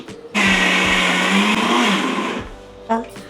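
A mixer grinder blends kheer ingredients into a thin paste, its motor roaring loud and steady for about two seconds before cutting off, followed by a brief knock.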